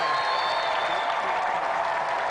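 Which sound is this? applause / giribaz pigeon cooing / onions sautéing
applause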